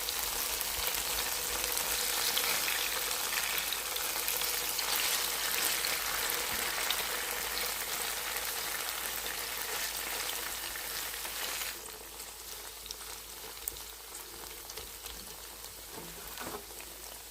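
Tofu slices pan-frying in oil until golden, a dense steady sizzle and crackle that runs loud and unbroken, easing slightly toward the end, with no talking.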